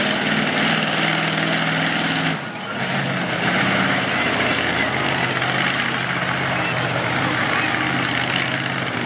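A monster truck engine refires at a Woodstock, Virginia event and settles into a loud, steady, rough rumble, with one brief dip partway through and a crowd or announcer faintly underneath.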